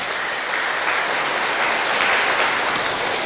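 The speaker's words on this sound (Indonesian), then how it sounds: "Tepuk tangan dulu." Sustained audience applause fills a university graduation ceremony in Tebing Tinggi, a dense steady wash of many hands clapping at even loudness for several seconds, with no voices standing out.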